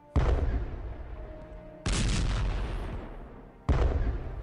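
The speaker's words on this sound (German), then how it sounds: "Ja, die Artillerie hat hier gerade eben einen guten Job gemacht." Artillery fire in the World War I strategy game Strategic Command: World War 1: three heavy booming blasts, each a sharp onset followed by a long rumbling decay, loud and close with no voices.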